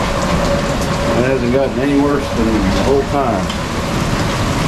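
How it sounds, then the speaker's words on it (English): Hail from a small storm pours down at a homestead as a steady, dense roar of impacts. It stays loud and constant throughout while someone talks over it. "Look at the size of that hail that just fell."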